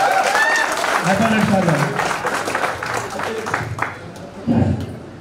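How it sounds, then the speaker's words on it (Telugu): Clapping from a crowd at a school alumni get-together party, loud at first and tapering off, with voices speaking over and after it. "అందరం సాధారణంగా గట్టిగా క్లాప్స్."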